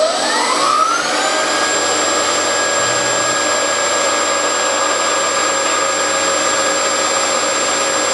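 A CNC machine cuts at a slowed feed rate during a Little Blazer build. Its spindle whine climbs in pitch over the first second, then holds as a loud, steady, high-pitched tone with a constant machining hiss underneath.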